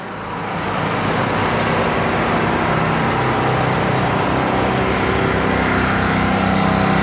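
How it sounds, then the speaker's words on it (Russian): A small inverter generator hums very quietly at an outdoor market in Odesa, a steady continuous drone blended with broad traffic-like background noise and no talking. "Слышишь, как генератор урчит?"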